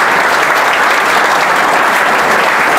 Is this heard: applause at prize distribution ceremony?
yes